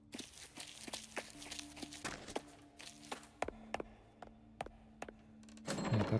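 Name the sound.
footsteps in the video game Sorceress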